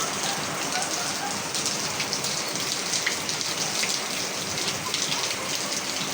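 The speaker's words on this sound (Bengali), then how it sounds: "সেই বৃষ্টি পড়তেছে।" Steady, dense patter of rain falling on surfaces, constant and fairly loud with no breaks.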